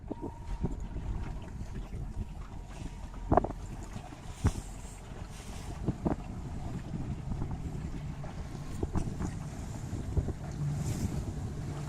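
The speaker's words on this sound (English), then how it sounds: "And now it's gotten a little windier." Wind blows steadily across open water during a youth Optimist sailing dinghy race, a continuous rushing wash with brief gusty buffets on the microphone and occasional faint knocks, no voices.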